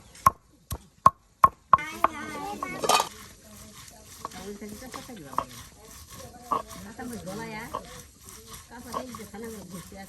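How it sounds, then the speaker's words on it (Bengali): Potatoes are chopped on a board for a village-style country chicken curry, with about five sharp, evenly spaced knife strikes up close at the start, followed by continued clattering and cutting under talk. "এখন আলু কাটা হচ্ছে"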